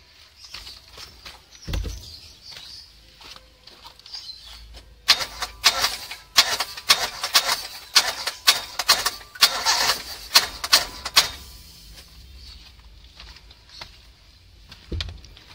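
An engine being turned over by its starter motor during valve adjustment, a burst of rapid cranking chatter in the middle amid quieter clicks and knocks, with brief faint speech.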